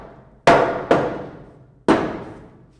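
Three sharp hammer taps driving a carriage bolt into a wooden trailer floor board, each a bright metallic clang with a short ringing decay, the first two close together and the third after a pause.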